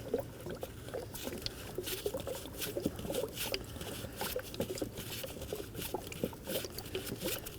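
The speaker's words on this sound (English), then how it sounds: "And start draining your coolant." Coolant draining from the reservoir of a Ford Transit Connect 2.5L gives a faint, steady patter and trickle of liquid, with irregular small splashes close by and no one talking.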